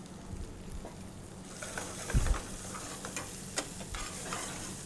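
Chopped onions frying in a pan for foxtail millet upma, giving a steady close sizzle with scraping stirs throughout and no talking.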